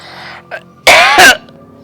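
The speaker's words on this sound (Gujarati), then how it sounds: "આ તમે સો કેટલી ઉધરસ આવે છે" Two loud, harsh coughs in quick succession, close to the listener, preceded by a brief softer throat sound.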